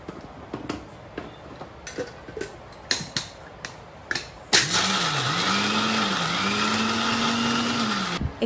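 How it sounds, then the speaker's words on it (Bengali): Ghee-free toasted nuts are ground in a kitchen blender: a few clicks and taps come first, then the motor starts abruptly and grinds loudly and steadily, its whine rising and dipping before it stops. "এখন বাদামগুলো আমি প্রথমে ভালো মতো ব্লেন্ডারে গুঁড়া করে নেবো"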